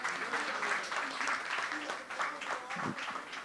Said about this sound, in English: We get a round of applause for that